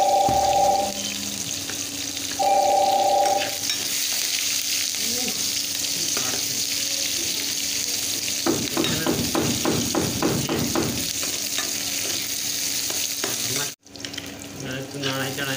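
Dal simmering in a pot, a steady bubbling sizzle with a run of rapid stirring clinks near the middle and a couple of brief tonal beeps at the start, loud and close.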